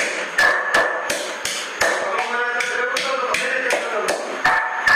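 Raw mango chutney is pounded with a stone, giving loud close thuds in a steady rhythm of roughly two strikes per second throughout.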